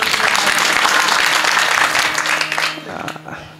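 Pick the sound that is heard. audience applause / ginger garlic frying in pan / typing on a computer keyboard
audience applause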